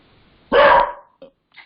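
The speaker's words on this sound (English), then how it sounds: "Whenever it dings, the dog goes nuts." A dog in an apartment building lets out one loud, sharp bark close by, followed by two brief, softer yips in an otherwise quiet room.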